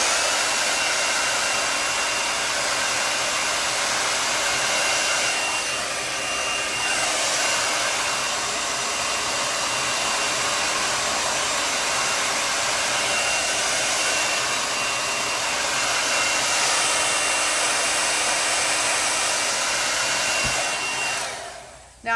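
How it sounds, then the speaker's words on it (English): A blow dryer runs loud and steady at close range for about twenty seconds, drying chalk paint on a book stack craft project, with a slight dip partway through before it cuts off at the end. "I'm going to use my blow dryer to dry this up some"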